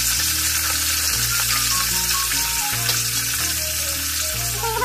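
Fish frying in mustard oil in a kadai, a continuous loud crackling sizzle with a low steady hum underneath throughout.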